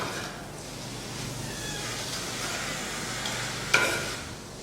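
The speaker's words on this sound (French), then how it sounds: "Pendant que notre poule légumes est en train de sauter dans la casserole" Chicken and vegetables sauté in a pan, a steady soft sizzle with faint stirring scrapes throughout and one brief clink near the end.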